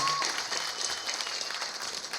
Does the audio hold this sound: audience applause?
yes